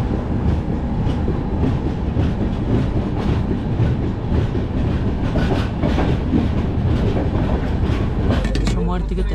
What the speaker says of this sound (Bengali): আমাদের ট্রেন এখন ডিপার্চার নিচ্ছে নিউ ফারাক্কা জংশন থেকে।